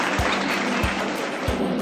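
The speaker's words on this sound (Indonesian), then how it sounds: "tepuk tangan semua." A group applauds in a steady, close wash of clapping, with a few heavier thumps standing out at regular intervals.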